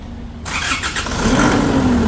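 A car engine cranks briefly, then catches and roars to life, settling into a loud running rumble close by.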